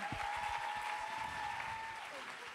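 Dense, steady audience applause fills a gala business-events night in Lyon as a cosmetics company director is introduced, with a sustained tone and a voice underneath, fading slightly toward the end.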